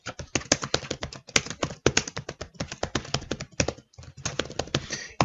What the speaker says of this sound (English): So right now I'm typing text in the editor.